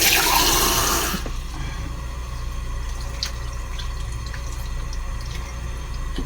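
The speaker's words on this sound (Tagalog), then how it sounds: "Lagyan natin ng konting tubig." A little water poured into an eggplant dish while cooking gives a brief splashing pour at the start, then fades to faint drips over a steady low background hum.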